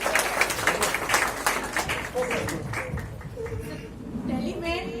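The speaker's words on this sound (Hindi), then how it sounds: "रोहित मिश्रा जी को बहुत जोरदार तालियां" Audience applause for an award recipient at a ceremony: a burst of crowd clapping that thins out while a voice speaks over it.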